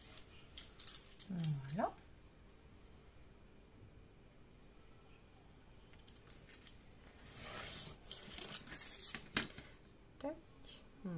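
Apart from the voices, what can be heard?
cutting with a utility knife (cutter)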